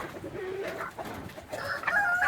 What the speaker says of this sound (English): So I got 4 Chachalacas that wandered into the chicken coop